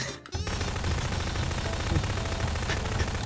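Video game gunfire in Garry's Mod Prop Hunt, a dense continuous rattle of rapid shots running almost the whole time after a brief gap at the start, loud and close.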